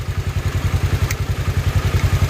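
A motorcycle engine labours on a rocky trail, a close, loud low thumping with a steady rapid pulse and rattling clatter, no talk.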